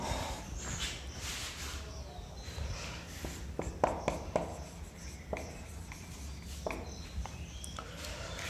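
Names written on a classroom board during a biology lesson, with scratchy marker or chalk strokes in short bursts and taps, close and moderately loud, and no speech.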